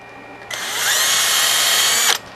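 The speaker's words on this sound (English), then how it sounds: "All right, you got your pilot hole drilled." A power drill bores a pilot hole into a 3D printed flower stem, a single steady high-pitched whine lasting under two seconds that starts and stops sharply, close and loud with no talking.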